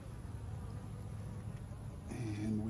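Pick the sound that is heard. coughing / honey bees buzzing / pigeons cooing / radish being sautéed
honey bees buzzing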